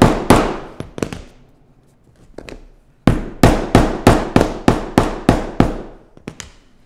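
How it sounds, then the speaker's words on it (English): A hammer whacks a shoe sole onto the heel while a pair of Mary Jane shoes is being made. A few scattered blows come first, then a steady run of about nine loud, sharp strikes close by. "if there's any lift off, like just give it a few more whacks with the hammer."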